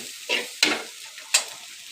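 Rohu fish going into a frying pan of vegetable stalks, bringing a few sharp sizzling bursts and stirring scrapes, near and fairly quiet with no one talking.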